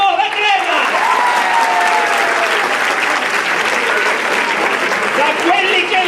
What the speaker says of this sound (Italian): Grande applauso a Roberto Baffo da Crema.